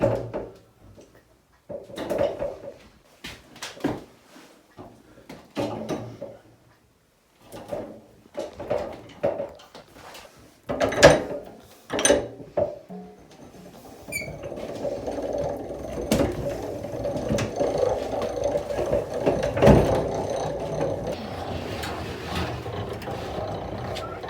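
A hand-cranked honey extractor full of frames is turned, first in halting knocks and clunks, then settling into a steady rumbling whir as it spins smoothly.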